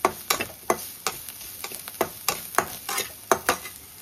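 Curry powder being stirred into onions in a pan, a steady run of sharp scraping and clacking spoon strokes over a soft sizzle, close and fairly loud with no voices.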